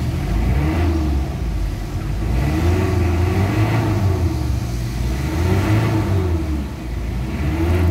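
A car engine with low power and black smoke revs and idles for diagnosis, a close, steady low rumble that swells and eases in repeated gentle pulls.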